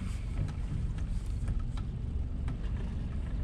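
A boat motor idles slowly through a marina at under two miles an hour, a low rumbling drone that holds steady throughout, close and continuous, with faint splashing and wind noise over it.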